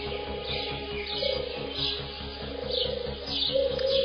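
Turtle doves call repeatedly in the Cameroon bush under the African sun, their soft cooing phrases recurring steadily over a constant layer of background insect and bush noise.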